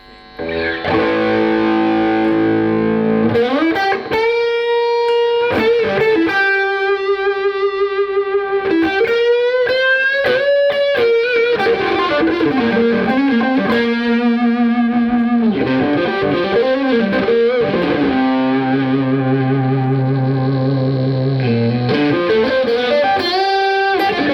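An electric guitar plays a sustained lead through a Fender Supersonic 22 amp's heavily overdriven lead channel, thick and distorted, with bends and long ringing notes, loud and alone.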